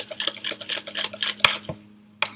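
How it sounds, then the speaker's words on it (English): Whisk scraping and tapping against a bowl while mixing pink cake batter, a fast irregular run of close clinking strokes that stops, then one last sharp clink. "now we're going to do a little more whisking"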